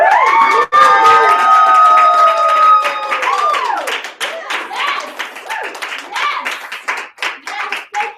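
An audience at a live personal-growth workshop claps and cheers loudly for a participant, with whoops and shouts over rhythmic clapping. The crowd is close, and the energetic voices fade into scattered claps and chatter.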